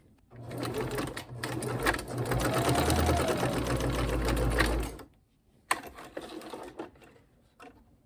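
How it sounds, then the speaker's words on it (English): A sewing machine stitches fabric scraps in a long steady burst of rapid mechanical whirring, then stops briefly and runs again in shorter, quieter bursts, close and clear. "I'm gonna go ahead and sew him down"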